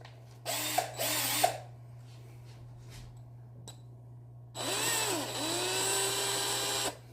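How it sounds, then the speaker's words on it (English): A power drill whirs in short bursts, biting into a Game Boy screw: two quick close pulses, a few faint clicks, then a longer sustained whine with shifting pitch under a low electrical hum. "we're going to have to drill through the screw and just tear it to threads"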